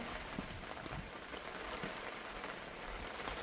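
Constant rain patters down across the whole span, a dense even hiss with scattered droplet ticks, no voices.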